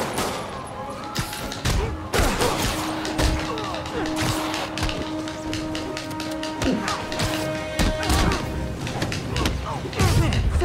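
Rapid gunfire bursts and thuds from Marvel's Spider-Man on PS4, dense and loud throughout with sharp cracks and impacts, along with game voices and a steady musical tone underneath.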